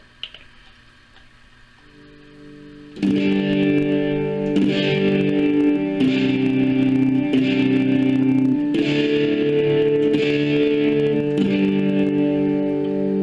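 An electric guitar through a Boss OD-20 pedal in Distortion 1 mode plays distorted, overdriven chords after a quiet start, strummed in a steady rhythm with sustained, gritty tone and no talking.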